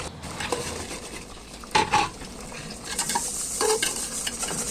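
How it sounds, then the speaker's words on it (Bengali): Ground cumin gets stirred into a beef lung curry in a pan, a spoon scraping and clinking against the metal over a soft sizzle, a few louder knocks standing out, with nobody speaking. "এবার পরিমাণ অনুযায়ী জিরের গুঁড়ো দিয়ে ভালো করে নাড়াচাড়া করে কিছুক্ষণ"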